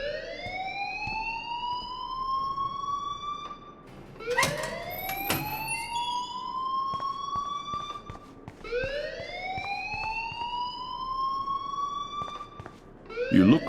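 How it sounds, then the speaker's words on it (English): Rising, wailing alarm tones in the video game Life is Strange, looping about three times in long upward sweeps, loud and steady with brief clattering noises between cycles. "please turn off that alarm since that's your job"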